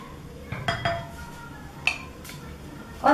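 A spoon clinks and scrapes against a bowl in a few short, close bursts as salt and garam masala are stirred into cooked spinach.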